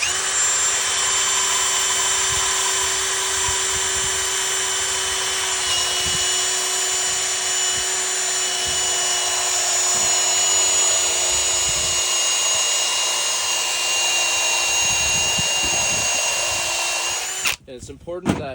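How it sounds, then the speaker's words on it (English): A step bit drilling a hole through a junction box, with a steady loud power-drill whine that holds for about seventeen seconds and then cuts off abruptly near the end. "So I just put the big step bit in and just start drilling."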